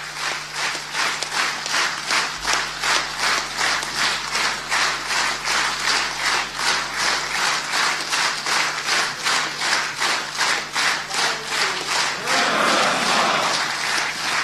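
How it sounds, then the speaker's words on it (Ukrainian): A rally crowd applauds an injured comrade with rhythmic, synchronized clapping, a steady beat of claps repeating throughout at a fast even pace and holding loud. "нехай ці аплодисменти тебе вилікують"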